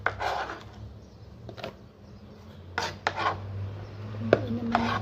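A kitchen knife chops tomatoes on a cutting board, several separate bursts of cutting and scraping strokes with quiet pauses between, close and fairly soft, with no talking.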